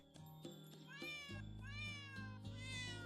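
Cats meow repeatedly in a cafe in the video game Girls' Frontline 2: Exilium, a few clear, close tonal mews over a soft, steady game music bed.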